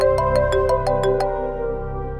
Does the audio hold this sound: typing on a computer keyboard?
no